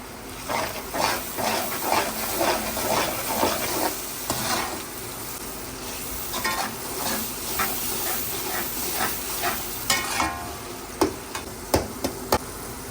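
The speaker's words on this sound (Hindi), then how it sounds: "ये 1 टमाटर है जिसको मैंने बारीक काट लिया और इसका छिलका भी रिमूव कर दिया, यानी ऊपर से छिलका उतारते हैं, ये डाल देंगे।" A finely chopped peeled tomato goes into a pan of frying daal maash masala, a steady close sizzle with repeated spoon scrapes and clanks against the pan, growing sharper toward the end, with no one talking.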